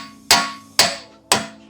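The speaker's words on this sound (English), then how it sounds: "grab your hammer, hammer the axle out" A hammer strikes a CV axle while it is knocked out of a Honda HR-V, three sharp metallic blows at a steady, even pace, loud and close with short ringing decays and no talking.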